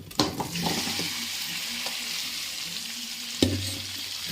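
Chicken being fried in a pan with a paste of shallots and coriander seeds, giving a steady close sizzle with occasional stirring scrapes and one sharper clatter of the spoon.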